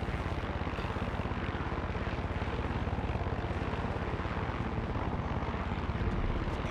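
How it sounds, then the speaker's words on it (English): Aircraft flying overhead in the video game Far Cry 6: a steady, loud propeller-engine drone with a rapid pulsing beat, continuous for the whole stretch and undisturbed by other sounds. "Aircraft."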